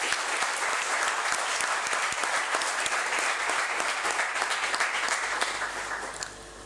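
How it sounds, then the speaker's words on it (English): An audience at a leadership conclave gives a continuous round of dense applause that holds steady and loud, then fades slightly at the end. "and we must give them a big applause."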